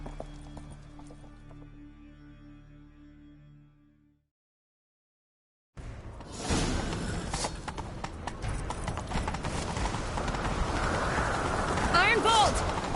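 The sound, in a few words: horse galloping in video game The Witcher 3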